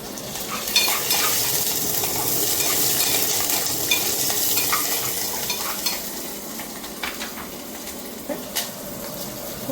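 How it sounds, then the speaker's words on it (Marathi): Garlic and jwala chillies sizzle loudly in a cumin and mustard seed tempering for dal baati, a continuous close hiss and crackle with occasional spoon taps against the pan. "हे जिरं मोहरी आपल्या टाकून झाले मी आता लसूण टाकते"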